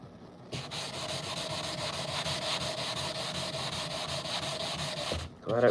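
A sanding block rubs hard against a surface while finishing a Westinghouse cop, a continuous rasping scrub held steady for about five seconds, close and loud, then stopping abruptly.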